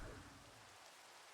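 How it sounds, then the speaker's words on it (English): Steady Minecraft rain falling as a soft, even hiss, faint and continuous with no thunder and no talking. "More rain."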